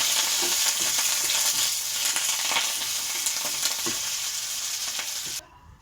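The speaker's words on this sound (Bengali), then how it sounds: "তো কারি পাতাটা একটু লাল লাল করে ভাজা হবে।" Washed curry leaves crisping in hot oil in a pan give a loud, continuous crackling sizzle, close and unbroken, with occasional soft stirring taps and no voices.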